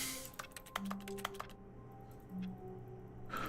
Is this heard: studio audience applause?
no